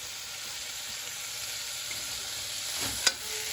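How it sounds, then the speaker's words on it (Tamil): Onion and green chili sautéing in a pan for coconut milk rice, a steady close sizzle and frying hiss with light stirring scrapes and a small clink near the end, no talking. "நம்ம கட் பண்ணி வச்சிருந்த வெங்காயமும் பச்சை மிளகாமும் இப்போ போட்டு நல்லா வதக்கிக்கலாம்"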